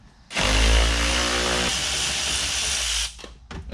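A power tool whirs steadily for about three seconds at close range, loosening hidden bolts beneath a car seat in a rear-wheel-drive Ford Fusion project car, then cuts off, leaving a few light clanks.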